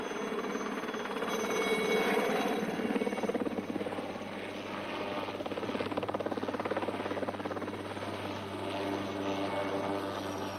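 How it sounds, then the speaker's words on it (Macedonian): A helicopter's steady rotor and engine drone runs continuously at moderate distance, with a faint tonal hum layered beneath the broadband roar. "Хеликоптер"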